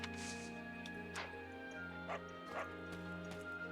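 Several short dog barks and yips from the video game Fire Emblem Warriors: Three Hopes ring out over steady tonal background music, spaced irregularly across a few seconds.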